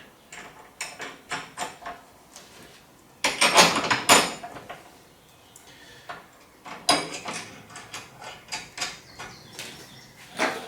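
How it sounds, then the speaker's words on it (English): Bolts being tightened on a Brinly ST-152BH-A pull-behind sprayer during assembly, a close run of quick ratcheting clicks and metallic taps in irregular bursts, with two louder clattering stretches. "Okay, tighten those up."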